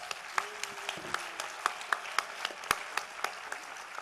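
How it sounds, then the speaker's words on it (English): Sparse audience applause at a live ethnopharmacology talk, a few slow, distinct claps spaced through the clip rather than a full ovation, fairly quiet with no talking. "Please give them a big applause."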